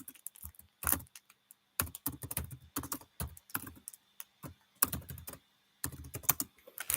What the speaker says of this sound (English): You could basically search it up and just type it right here.